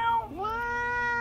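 A cat's single drawn-out meow, tonal with a sliding pitch dip in the middle, close and fairly loud with no talk over it.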